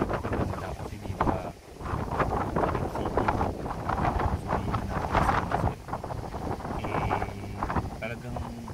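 Strong wind at sea rushes steadily and loudly across the microphone aboard a boat out on open water, a dense continuous roar that barely dips for the whole stretch.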